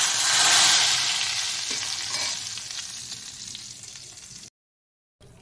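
Fried tempering spices tipped into a pot of khichuri hiss in a loud sizzling burst that gradually fades, with a brief silence before faint sizzle resumes.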